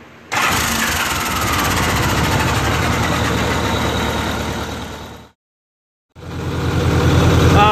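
A 1986 Honda Goldwing GL1200 motorcycle engine, with cylinder one burning oil, cranks and fires, running loud and steady before cutting out briefly, then restarting into a strong idle.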